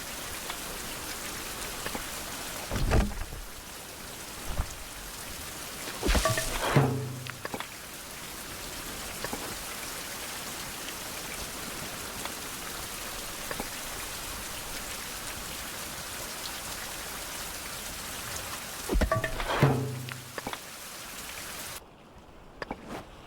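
Steady rain hisses in the 16th-century survival video game Survival: Fountain of Youth, a continuous wash of drops with a few louder thuds, with no talking.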